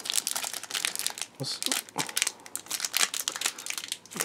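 Crinkly foil wrappers of MegaCorp trading card booster packs crackle and crumple as they are torn open, a steady close-up rustle with sharp crinkling bursts throughout.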